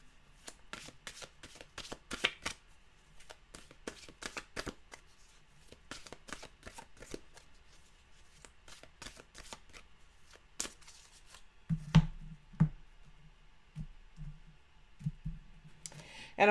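A deck of mantra cards being shuffled, producing repeated crisp flutters and riffling clicks in quick bursts across the whole stretch, with a few louder shuffles and handling knocks near the end, with no talking.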